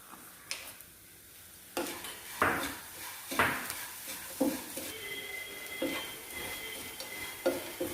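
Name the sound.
jaggery melting and stirred in a hot pan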